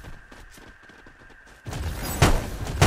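Gunshots in the battle royale game Free Fire during a grand final tournament match, starting as faint distant pops, then turning into louder, closer bursts of rapid fire in the second half.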